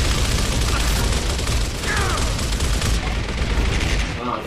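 Dense, continuous gunfire from the Gears of War video game, steady and loud for the whole stretch with barely a pause, with a voice faintly mixed in underneath.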